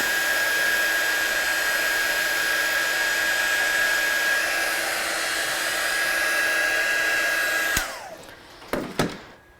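A hair dryer dries watercolour paint with a loud, steady whooshing roar and a constant motor whine, then cuts off near the end, leaving a few clicks and a brief whir.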